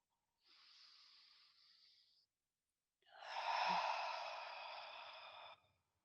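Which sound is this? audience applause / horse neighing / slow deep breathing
slow deep breathing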